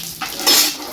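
Mustard seeds crackle in hot oil in a large pot, part of a pulao for about 25 people, with a brief burst of sizzling and spattering close by.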